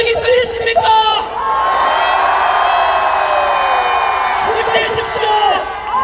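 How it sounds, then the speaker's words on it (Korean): Large rally crowd in South Korea shouting and cheering in support of President Yoon Suk Yeol, loud sustained roaring and whooping voices, with sharper bursts of yelling at the start and end. "윤석열 대통령님, 또 우리의 함성이 들리십니까?"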